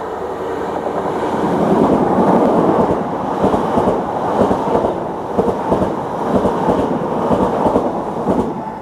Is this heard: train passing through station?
yes